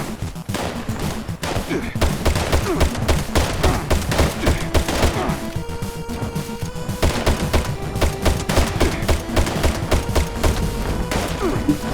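Rapid Crusader Pistol gunfire in Fallout 76 crackles in dense bursts of sharp shots, loud and close, with brief tonal hums from the game between volleys.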